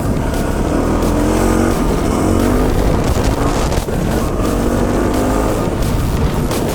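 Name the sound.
KTM 690 Enduro motorcycle riding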